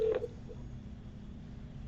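A RingCentral call placed from the web app starts dialing an extension with one short, clear dial tone at the very start, followed by quiet line hiss.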